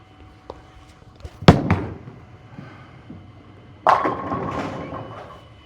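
A urethane bowling ball on a freshly oiled lane: a sharp thud as it is released, a quiet stretch as it rolls away, then a loud clattering crash as it strikes the pins, heard from the bowler's end of the lane.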